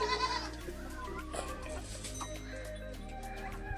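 Chickens cluck on a farm field where pigeon pea leaves lie around, mixed with a steady chorus of other farm animal calls, close and continuous throughout.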